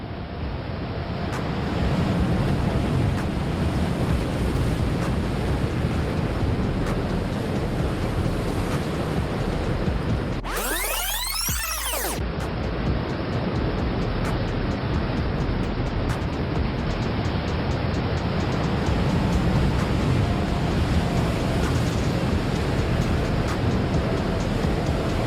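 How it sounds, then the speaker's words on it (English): Giant North Atlantic ocean waves, some over 100 feet tall, thunder in a steady, roaring surf with heavy wind noise buffeting the microphone throughout, plus a brief sweeping whoosh near the middle. "high winds blowing in from the North Atlantic Ocean generate waves like this, some of which can be over 100 feet tall"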